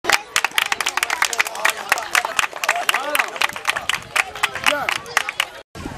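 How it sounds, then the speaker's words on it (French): Crowd clapping and cheering for the Sagnon dance group, dense rapid claps with voices mixed in, loud and close, ending abruptly. "Le groupe Sagnon qu'on applaudit encore très très fort."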